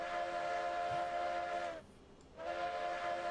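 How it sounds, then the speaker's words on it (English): In a railroad video game, a steam locomotive whistle in the style of the Polar Express Sierra No. 3 sounds a steady, harmonically rich tone. It breaks off briefly, then resumes at moderate loudness. "It's another Polar Express Sierra number 3 sounding whistle."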